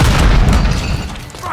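A Semtex grenade explodes in the video game Modern Warfare 3, a loud, close, low boom that rumbles heavily and slowly fades over a second and a half.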